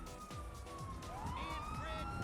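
A police car siren in GTA 5 wails in rising and falling sweeps, rolling over engine rumble and growing louder through the stretch.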